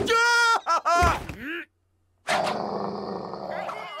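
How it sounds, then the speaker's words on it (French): A fierce cartoon dog lets out a harsh, rough growl that lasts about two seconds. It follows a short burst of animated vocalizing and a brief silence. "C'est un chien féroce!"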